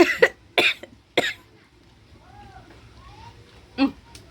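A person coughs after eating spiced jamun fruit: three sharp, close coughs in quick succession, a quiet pause with faint murmuring, then one more cough.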